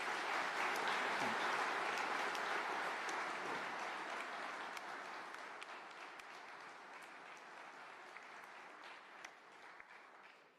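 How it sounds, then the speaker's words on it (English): Sustained applause from an audience at a military leaders' event in honour of General Grynkewich, a dense, steady wash of clapping that carries on for about ten seconds and slowly fades toward the end. "Please give General Grynkewich a big round of applause."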